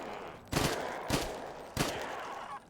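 Gunfire at zombies in a Black Ops 3 TranZit mod, three loud broad blasts about a second apart, each with a short ringing tail, close and alone with no talk.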